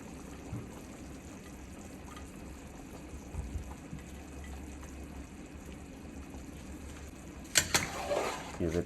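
Dumplings drop into a pot of Caribbean pumpkin soup with chicken and beef. A low background hum runs for several seconds, then close splashes and liquid sloshing arrive in a short cluster near the end.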